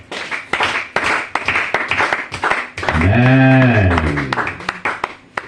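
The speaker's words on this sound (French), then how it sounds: "On acclame le Seigneur Jésus très très fort." A congregation at a French-language church service claps and applauds in quick, dense bursts, close and lively. Then a voice calls out a long, drawn-out exclamation over the fading claps.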